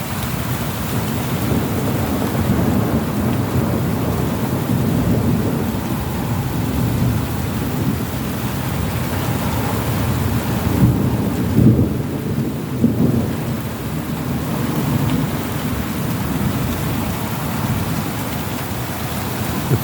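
Heavy steady rain pours during a winter storm in Israel, a dense continuous hiss with low thunder rumbling through it and a stronger roll near the middle.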